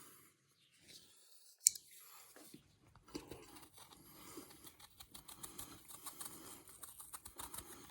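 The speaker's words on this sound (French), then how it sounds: "on va essayer de découper ce petit morceau de bois en petits fragments" A Rubato 2 knife cutting a small piece of wood into little fragments. The close, dry scraping and shaving strokes come after a quiet start and repeat in an uneven rhythm.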